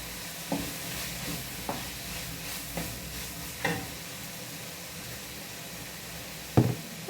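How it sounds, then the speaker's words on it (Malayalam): Onion, ginger and garlic sizzle softly in a pan while being sautéed, a steady low frying hiss broken by several sharp knocks of a spoon stirring against the pan, with no talking. "നമ്മുടെ സവോള, ഇഞ്ചി, വെളുത്തുള്ളി എല്ലാം വഴന്ന് കണ്ട വഴന്ന് വന്നിട്ടുണ്ട്"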